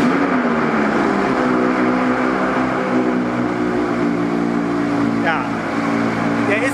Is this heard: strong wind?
no